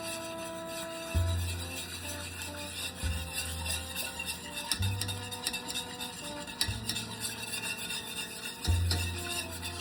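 Flour being stirred in a cast-iron skillet, a scraping, rubbing rasp of a utensil across the pan repeated in several strokes, close and fairly quiet with no talking.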